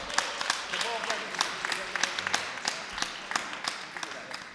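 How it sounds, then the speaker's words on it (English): Applause from an audience at an East New York community board general meeting, a scattered round of clapping with distinct claps over a murmuring room, moderately loud throughout. "So give her another big round of applause."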